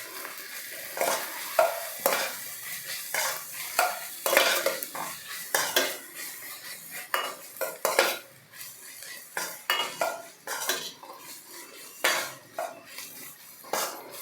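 Ginger garlic paste stirred into fried onions in a pan, a spoon scraping and clinking in repeated uneven strokes over a light sizzle, close and fairly loud.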